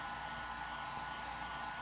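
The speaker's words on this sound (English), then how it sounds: "I hit it with heat from a hairdryer." A hair dryer blows with a steady, even roar that holds at the same level from start to finish, with nothing else audible.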